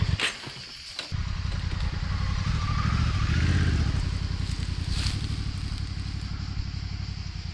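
A 2026 Honda Africa Twin motorcycle ridden during a training session, its engine running steadily with a low rumble that swells slightly, heard close and continuous after a brief clatter at the start.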